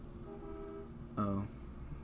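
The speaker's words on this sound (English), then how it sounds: "like, why are they honking?" An 18-wheeler truck sounds one short, loud honk that rises briefly over a low, steady background hum.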